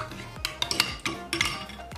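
A spoon stirring coffee in a cup of hot water, with a series of quick metallic clinks and scrapes against the cup, close and fairly quiet, irregular taps over a couple of seconds.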